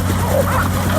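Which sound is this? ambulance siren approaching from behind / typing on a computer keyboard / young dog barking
young dog barking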